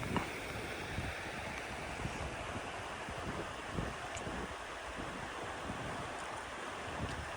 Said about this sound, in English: Water's flowing.